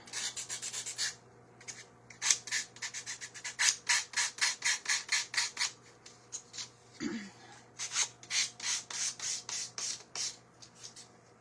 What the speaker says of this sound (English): When you sand, it is best to go down and away from your piece.